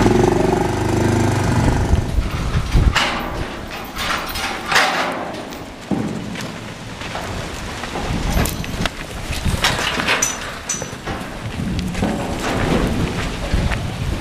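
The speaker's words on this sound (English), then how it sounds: "I'm going to jump on this four-wheeler and run down and set a gate for them." Four-wheeler ATV engine running on a farm, a loud rough chugging idle that revs and putters unevenly up close, with some rattling and no talk.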